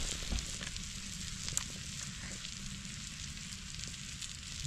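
Fish fillets frying in oil in a pan for Kerala-style meen pollichathu give off a steady, close sizzle with a dense crackle throughout and no voices.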